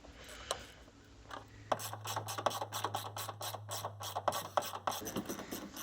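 A ratchet wrench clicks rapidly in bursts, removing the 13mm bolts from the battery box of a 2004 Dodge 2500. The metallic ratcheting is close and distinct, with short pauses between strokes.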